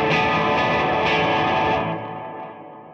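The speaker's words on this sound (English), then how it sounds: "the part that helps with having the trails mode and that decay on infinite" Guitar played through a Strymon Flint reverb pedal with trails mode on and decay set to infinite, a thick, distorted wash of sustained notes that starts loud and fades away.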